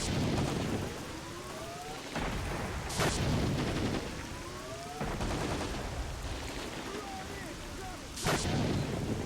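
Gunfire in S.T.A.L.K.E.R. against Monolith soldiers, heavy repeated bursts of shots separated by brief lulls, booming and loud over a rumbling battlefield backdrop.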